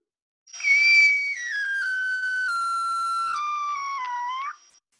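Recorded dolphin whistle from Monterey Bay, a single clear tonal call lasting about four seconds, starting with a high rising sweep then gliding slowly downward with a sharp upturn at the end, alone with no other sound.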